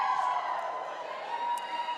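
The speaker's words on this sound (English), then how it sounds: "We got our teams cheering off here" Roller derby teams cheering from the bench at a bout, a steady distant crowd roar of mixed shouts and whoops lasting the whole short moment, fairly faint.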